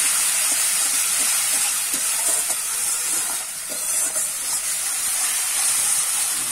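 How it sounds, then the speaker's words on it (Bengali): Spice paste sautés in a pan for a fish roe dish, giving a loud, dense, steady sizzle and hiss with faint stirring ticks beneath. "মশলাটা কষানো হচ্ছে ভালোভাবে, এখনো হয়নি ভাজা"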